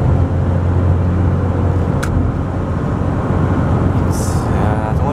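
Truck cruising on a straight highway at about 70 in traffic, a steady low engine and road drone with wind and tyre noise inside the cab, a brief click and a hiss near the end.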